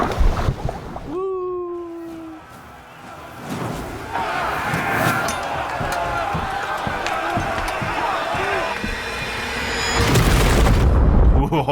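Explosions go off during a raid in Assassin's Creed Valhalla, with heavy booms and slams layered under game music, rumbling effects and shouting voices, building louder toward the end.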